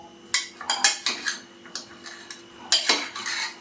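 Country chicken is stirred in a metal cooking pot, producing a run of close, sharp scrapes and clinks in irregular strokes, each fading quickly, with no voices.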